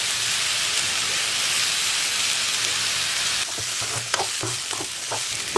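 Chopped carrots for a carrot stir-fry sauté in a pan over low heat, giving a steady close sizzle that later turns into a series of scraping, clattering stirring strokes.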